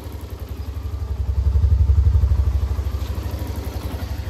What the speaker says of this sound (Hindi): एक बार आइडियल साउंड सुन लो, आइडियल पे मेरे को ठीक लगता है